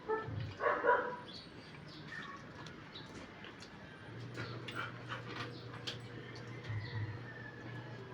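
A dog gives a couple of short soft barks or whines at the start, then quiet panting and light background noise.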